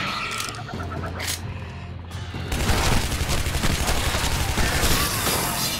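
Machine gun fire bursts out in a video game as a dense, rapid, sustained rattle of loud shots, preceded by a few isolated bangs and boomy impacts.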